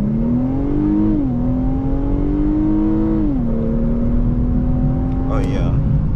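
A 2023 Infiniti Q50 with 300 horsepower accelerates hard in sport mode, the engine droning loud and near from inside the cabin and its pitch climbing and dipping through two gear shifts.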